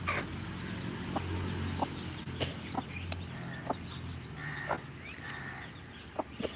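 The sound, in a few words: chickens clucking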